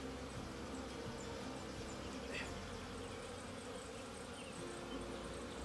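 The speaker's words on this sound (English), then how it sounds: "I'm sure you can hear them buzzing" Honeybees buzz steadily inside an opened hive during queen cage removal, a dense, continuous drone that holds close and even throughout.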